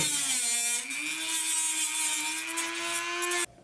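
A power tool cuts a notch into a corner of a metal part with a loud, steady high-pitched whine. The pitch wavers slightly, then the sound cuts off abruptly after a few seconds.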